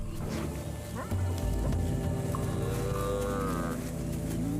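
A herd of African buffalo lowing on the savanna, a few deep moos and grunts over a dense background of animal noise, with one longer drawn-out call, fairly close.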